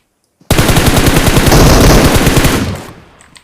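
Automatic gunfire from a bot in the mobile shooter PUBG Mobile, a loud, close, sustained rapid burst of shots lasting about two seconds before tailing off, with no talking.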